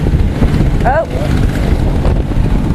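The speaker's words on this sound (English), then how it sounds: "A gust of wind." A gust of outdoor wind buffets the microphone in Wellington, giving a loud, constant low rumble for the whole stretch while a voice speaks briefly over it.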